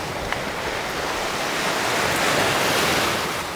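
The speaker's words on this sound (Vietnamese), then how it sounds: "Sóng khá là lớn" Large sea waves roll onto a Vietnamese shore in a continuous loud roar of surf, with wind noise mixed in and no voices.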